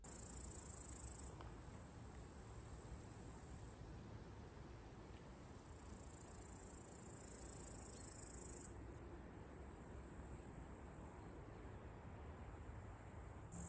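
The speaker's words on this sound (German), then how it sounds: "Vögel, Grillen." High, shimmering cricket trills pulse on and off over a quiet forest background with birds, fairly faint, with no talking.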